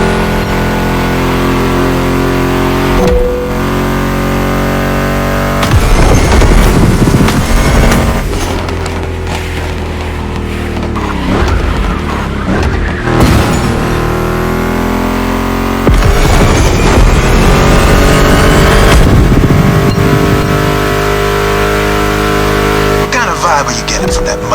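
Ford Mustang GT muscle car engine in The Crew Motorfest, loud and close, revving hard through repeated gear changes with rising and falling pitch sweeps, while a voice talks over it.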